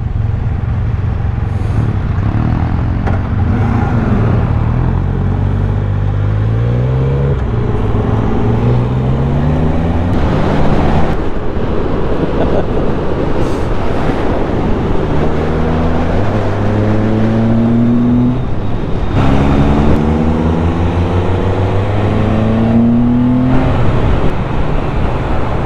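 A Can-Am Spyder three-wheeled motorcycle on an autumn country road detour, its engine loud and close, rising through repeated gear changes and easing between accelerations.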